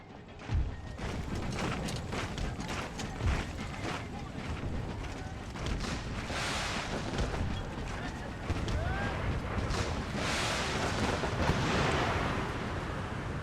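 Cannon artillery fire in the Napoleonic-era strategy game Empire: Total War, Brothers vs. Brothers mod: a dense, continuous battle din with scattered booming shots and crackling musketry, loud throughout, with a voice talking over it.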